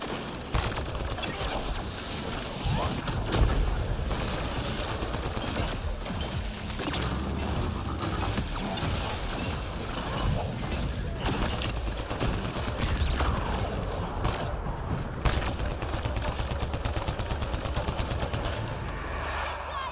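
Gunfire and a turret fire in a dense firefight in the video game Mass Effect Andromeda. Rapid shots, impacts and whooshes blend into a loud, continuous barrage for the whole stretch.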